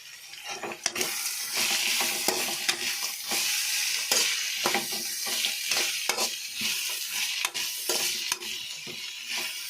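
Carrots frying in a pan for vegetable avalakki breakfast, with a continuous loud sizzle and rapid, repeated scraping stir strokes, close up throughout.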